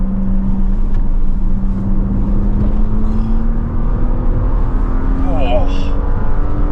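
A 2025 Audi S5 accelerates on the road, its engine note climbing steadily in pitch as it pulls hard, a loud, continuous drone from inside the cabin with a brief gear-change blip near the end.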